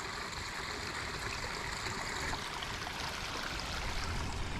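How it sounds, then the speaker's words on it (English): Water trickling and splashing in a pondless waterfall feature beneath a large sycamore tree in a Japanese-inspired garden; a steady, full rush of running water with no voices. "This is the first water feature we built for him, underneath this giant sycamore tree."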